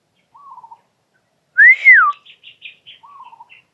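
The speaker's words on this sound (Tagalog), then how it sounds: "May sumipol tol." A short whistle, then a louder rising-and-falling whistle, followed by softer trailing chirps and another brief whistle in otherwise quiet surroundings.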